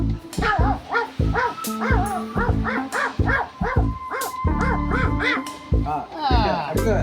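A voice mimics a puppy's yapping barks, a quick run of high, bouncy yips repeated over several seconds, close and loud, in a mimicry performance.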